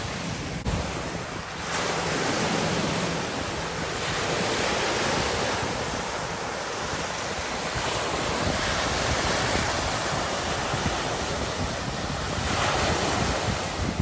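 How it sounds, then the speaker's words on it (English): Waves wash steadily onto a lake shore in continuous loud surf, with heavy wind buffeting the microphone throughout and no talking. "Good waves today."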